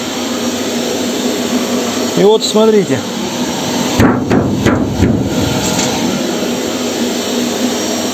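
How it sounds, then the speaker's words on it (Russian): Vacuum cleaner running as suction on a homemade sandblasting cabinet, a steady loud broadband whoosh throughout, with someone speaking briefly over it and a few clunks. "Сейчас пылесос работает."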